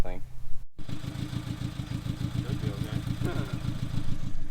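An off-road Suzuki engine bogs in mud, giving a rough, pulsing low rumble that churns unevenly while a person talks over it.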